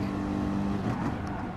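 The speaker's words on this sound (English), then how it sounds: "So we are in the Mercedes SLS Group 3 car here." A Mercedes SLS Group 3 race car in Gran Turismo Sport at Spa makes a loud, continuous engine drone.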